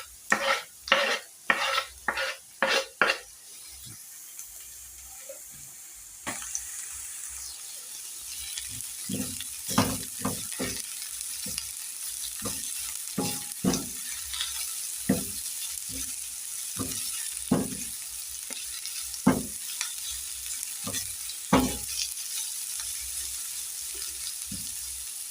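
Carrots sizzle steadily in a hot pan while a utensil scrapes and clacks against it in irregular strokes, after a run of sharp, close knocks at the start.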